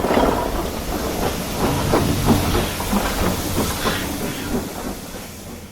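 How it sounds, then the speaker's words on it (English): A CG steam train, the Hogwarts Express, pulls away from a station with a steady loud hiss of steam and a rumbling, clattering undertone that continues throughout with no voices. "Looks like the train is taking off now."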